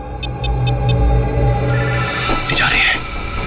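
Phone ringing after a call is placed: four short, evenly spaced electronic ring pulses, fairly clear over a steady background hum, followed by a noisy stretch with voices and movement.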